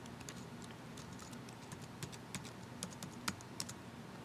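A password is typed on a computer keyboard in a steady run of light, fast key clicks with a few sharper taps, close and alone with no talking.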